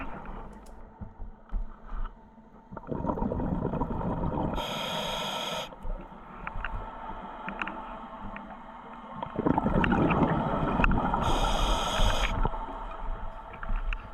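A low, steady drone from two large cruise liners' engines hums underwater while scallop diving off Guernsey, heard beneath a diver's slow breathing and bursts of bubbles from the regulator.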